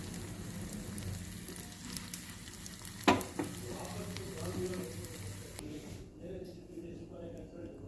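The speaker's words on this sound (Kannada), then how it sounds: "ಗೋಂದು ಇದು ಒಂದು ಸ್ವಲ್ಪ ಗೀನಲ್ಲಿ ಫ್ರೈ ಮಾಡ್ಕೋಬೇಕು." Gond, edible gum, frying in ghee for flaxseed laddu, a continuous bubbling sizzle with a sharp scrape partway through, then the frying drops away near the end, no talk heard.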